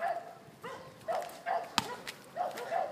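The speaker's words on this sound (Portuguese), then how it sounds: "Que cachorrinho ali, ó." A small dog barks in a handful of short, sharp bursts at a moderate distance, spaced irregularly, with one crisp click partway through and no talking.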